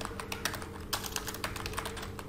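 Steady computer keyboard typing as a CSS comment is entered, crisp close keystrokes in an uneven run with brief pauses, no voices.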